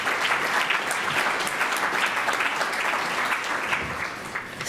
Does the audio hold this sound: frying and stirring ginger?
no